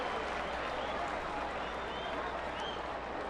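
A sellout baseball stadium crowd of over 43,000 at an Angels home game roars and applauds after a catch, a steady broad wash of cheering with a broadcaster talking over it.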